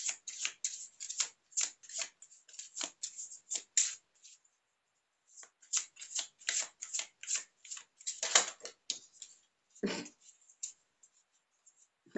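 Tarot cards are shuffled close by in quick bursts of crisp riffling and sliding, with a pause in the middle and a sharper slap toward the end.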